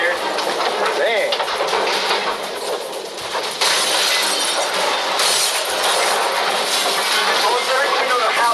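A house breaks apart in a tornado with continuous roaring, cracking and shattering debris. The sound is loud and sustained throughout, and voices are faintly audible within the din.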